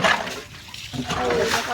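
Water from a motor-driven pressure hose splashes hard while a tray is washed during the final rinse of a buffalo trough, a loud continuous spray and splatter with a voice talking over it.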